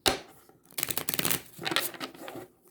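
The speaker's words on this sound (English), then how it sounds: "Let's shuffle it a few times" A deck of playing cards is shuffled during a tarot-style reading, giving close, crisp riffling bursts in several quick runs separated by short pauses, with no talking.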